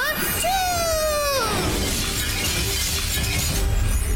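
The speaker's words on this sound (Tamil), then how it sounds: "இத்தனை பிளேட்ஸ் உடைஞ்சு போயிடுச்சா?" Many plates shattering as a cartoon sound effect: a loud crash with a whistling tone near the start, then a sustained clattering, breaking wash that fills the rest of the clip, with no talk.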